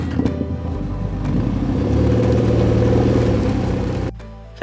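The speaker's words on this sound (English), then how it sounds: "The 2019 BMW 330i xDrive is powered by a 2-liter, 4-cylinder, turbocharged engine" A 2019 BMW 330i xDrive with a 2-liter turbocharged four-cylinder engine driving, a steady close rumble and whir that builds gradually before cutting off sharply near the end.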